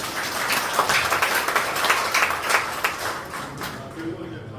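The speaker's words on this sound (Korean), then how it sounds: "다시 한번 감사드리고 박수 한번 부탁드립니다." An audience at a church seminar lecture claps steadily after a professor's talk, an even run of applause at moderate level that tapers off near the end.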